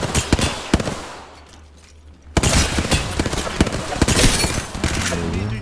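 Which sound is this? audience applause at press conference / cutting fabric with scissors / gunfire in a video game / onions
gunfire in a video game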